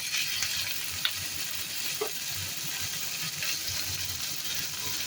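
Tomato dropped into hot oil for a Bengali chana dal gives a continuous, even sizzle and hiss, close by and moderately loud, with a faint knock or two and no talking.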